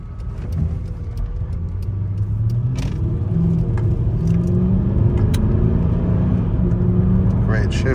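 Mercedes SLK55 AMG with a five-speed automatic being driven on the road, its engine a steady low rumble that swells slightly as it accelerates, continuous throughout with light cabin noise and no talking.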